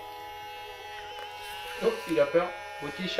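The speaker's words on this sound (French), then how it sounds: "C'est le bruit du Polaroid." A Polaroid instant camera buzzes as its motor ejects a photo, a close, steady electric hum lasting nearly two seconds, followed by someone talking softly to a cat.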